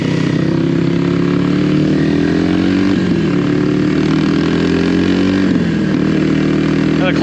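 Kawasaki KLX300R dirt bike engine while riding, a loud close-up drone that rises and dips in pitch with throttle and gear changes, continuous for the whole stretch.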